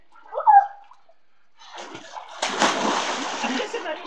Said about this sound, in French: Il y a mamie Jules qui est tout éclaboussée.